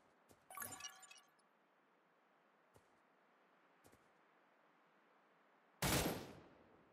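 Weapon fire in the mobile shooter Cyber Hunter comes as a rattling burst early on, followed by a couple of faint isolated cracks and then a loud, sharp blast that decays over about a second, with quiet gaps between.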